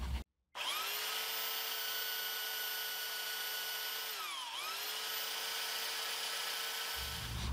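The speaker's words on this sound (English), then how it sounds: "with my belt sander." A belt sander smooths off excess material on a homemade battery part for an iPhone upgrade. It makes a steady, loud motor whine that sags briefly under load midway, then recovers and runs on after a short start.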